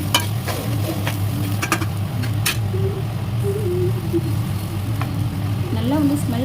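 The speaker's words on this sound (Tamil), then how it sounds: "இது அந்த தேங்காய் அந்த ஸ்மெல் வர வரைக்கும் நல்லா ஃப்ரை பண்ணிக்கோங்க" Grated coconut frying in a pan for coconut rice gives a faint steady sizzle with occasional scrapes of the spoon, set against a low background hum and a few brief voice-like tones.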